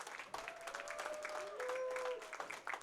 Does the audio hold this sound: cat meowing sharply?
no